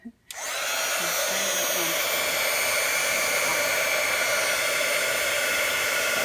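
A heat embossing tool blasting hot air onto a handmade pink card, starting abruptly after a brief quiet moment and then holding a loud, steady whooshing roar close to the microphone.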